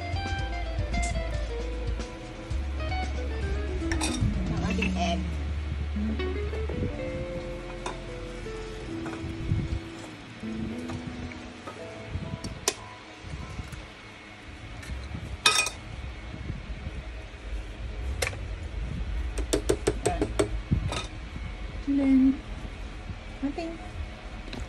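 Flour and dough mixture for ensaymada being stirred in a bowl, soft scraping and swishing with occasional clinks of utensil against the bowl, mostly faint beneath a person talking throughout.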